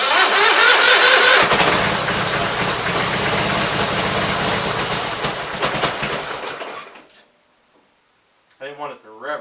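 A Gravely 8163-T garden tractor with an oil leak cranks and fires up loudly, runs roughly at a fast idle for several seconds, then shuts off into silence before a voice speaks briefly.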